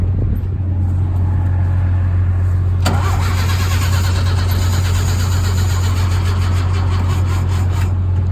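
Chevy Luv pickup truck on a weak battery with jumper cables attached, engine cranking over a steady low hum, then catching at about three seconds and settling into a close, continuous running drone with no talk.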